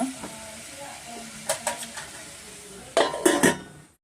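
A plate set down over a pan of tomatoes frying with salt for soya pulao gives a few close metallic clinks and clatters in two short bursts over a faint background sizzle.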